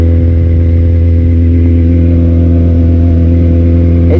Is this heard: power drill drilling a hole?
no